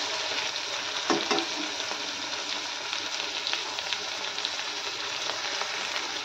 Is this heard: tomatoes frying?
yes